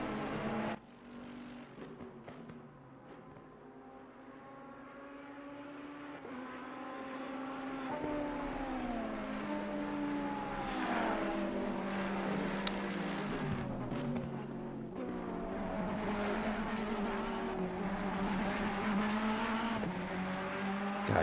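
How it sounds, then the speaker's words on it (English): A Ferrari-engined race car howls around the Oulton Park circuit in a sim race, its note rising and falling through the gears, with stuttering traction-control interruptions and tire squeal at moderate volume. "you can just hear that traction control working overtime to try and keep up with the power that Ferrari engine puts out"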